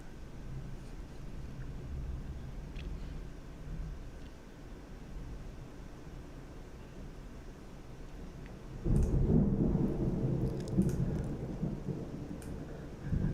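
A low, heavy roll of thunder swells partway through a severe thunderstorm with gusty winds over Davidson County, Tennessee. It rises over a steady background hiss of rain and wind and lingers as a deep rumble.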